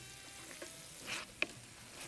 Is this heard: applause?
no